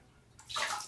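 A toddler sloshes and splashes water in a bathtub, a single quick swish that swells from quiet to a fairly close, bright splash within a second, with no talk over it.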